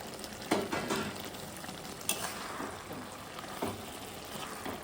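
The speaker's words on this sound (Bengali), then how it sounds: "এবার চাপাটা খুলে একটু নাড়াচাড়া করে নেব।" Spinach cooking in an uncovered pan and being stirred, a soft sizzle beneath a few light knocks and scrapes of a utensil against the pan, fairly quiet, with no talk.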